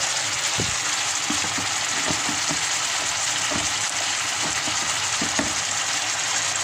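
Marinated beef sirloin sizzles steadily while pan-frying with garlic, a loud continuous crackle broken by repeated scraping and stirring knocks of a utensil against the pan, with no talking.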